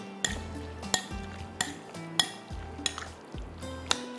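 Potato fries being mixed with a teaspoon of vinegar and soy sauce in a bowl, with a run of sharp utensil clinks and scrapes against the dish at a steady, repeated rhythm and no voices.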